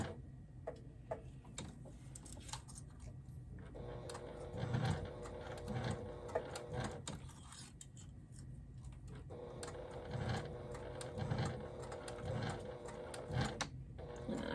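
A sewing machine stitching a wristlet strap, with bursts of rapid mechanical ticking separated by brief pauses as the seam and back stitch are sewn, steady and close throughout.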